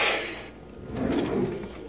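A kitchen gadget drawer slides open with a short rolling scrape, close and fairly loud at first, then quiet room noise with a small knock at the end.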